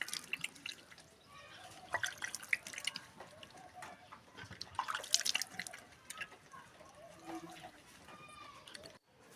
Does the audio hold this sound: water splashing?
yes